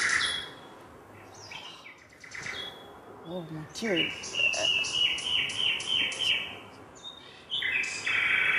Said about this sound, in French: C'est le rossignol.